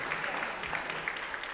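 An audience at a nonprofit health insurance educational retreat gives a short round of applause, moderately quiet and steady, with a voice speaking over it.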